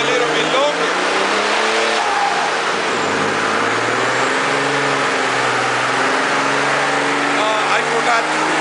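A car's engine revving on a Superflow dyno while the tire spins, a loud, close, sustained roar whose pitch sweeps up and down through several pulls, with a voice speaking over it.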